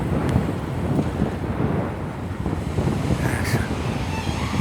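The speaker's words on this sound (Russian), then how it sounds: "Летайте, говорит, ветер сильный." Strong wind buffets the microphone in a steady, loud roar with a low rumble, continuous throughout and with no speech.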